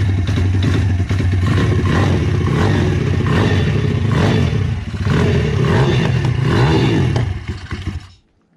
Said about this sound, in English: it's just sucking air on the other side of the carburetor, so it's probably running super lean. That's why it's popping a lot.